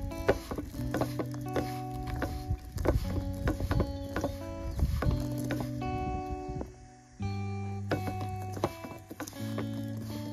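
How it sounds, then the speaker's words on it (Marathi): Raw mango pickle being stirred with spice masala and mustard dal, giving soft scraping and clinking strokes in an uneven rhythm over a faint background hum, close and fairly quiet. "पुन्हा एकदा छान मिक्स करते."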